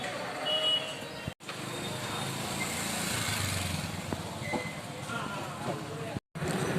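A broken-down motorcycle's engine idles and rumbles on a roadside while it is checked, a steady low drone under nearby conversation, briefly cutting out twice.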